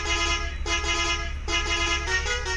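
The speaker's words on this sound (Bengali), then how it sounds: "ট্রাকের হর্ন," A truck horn in an Indian traffic driving video game blares as a loud, buzzy, multi-tone honk, repeated in three long blasts with short breaks between them.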